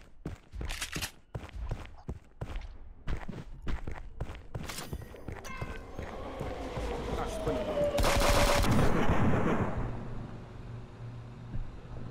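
Automatic turret gunfire rattles in a multiplayer shooter video game, bursts of sharp shots and quick clicks followed by a louder sustained blast, mixed with other game effects and brief voices.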